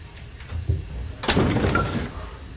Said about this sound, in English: Can you open the door?